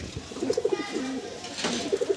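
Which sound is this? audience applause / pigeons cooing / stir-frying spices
pigeons cooing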